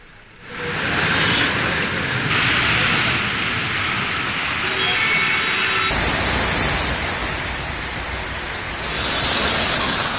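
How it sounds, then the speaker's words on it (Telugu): Heavy rain in Hyderabad pours in a dense, steady roar that continues unbroken and grows slightly louder toward the end. "హైదరాబాద్ లో భారీ వాన కురిసింది"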